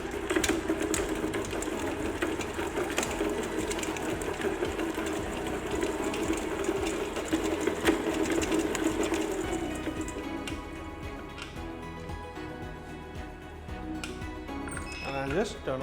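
An electric stand mixer kneads pizza dough with a continuous rattling, whirring mechanical drone that eases slightly toward the end, with a voice talking over it.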